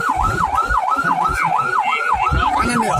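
An ambulance siren wails on a city street, cycling rapidly and evenly up and down, loud and close, over rumbling road traffic.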